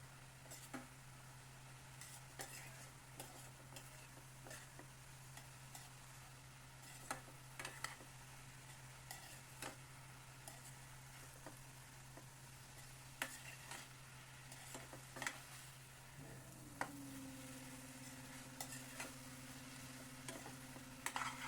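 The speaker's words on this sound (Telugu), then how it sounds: "ఒక స్పూన్ కారం వేసి ఇంకొకసారి బాగా కలుపుకోండి." Shredded cabbage and moong dal stirred in a pan with chili powder, quiet spoon scrapes and light taps against the pan at irregular intervals, faint and close over a steady low hum.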